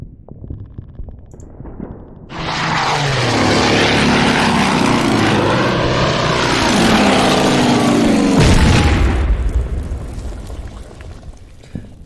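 A Corsair propeller aircraft in the naval strategy game Order of Battle roars in loudly after two seconds, a steady droning engine with a rising and falling pitch that holds for about six seconds before dropping away abruptly.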